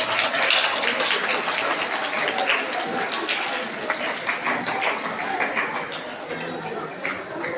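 Applause for parents at a primary school closing ceremony for Independence Month, a full, continuous burst of clapping from a crowd in a hall, loud and sustained throughout.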